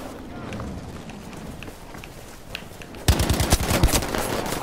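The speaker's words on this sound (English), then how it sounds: "Was that them shooting at me?" Gunfire in the video game Battlefield 5 breaks out suddenly as rapid, loud automatic bursts over running footsteps, with a player talking through the action.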